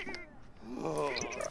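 A cat meows in The Sims 4, a short soft game meow heard faintly alone, with a brief rising call near the end.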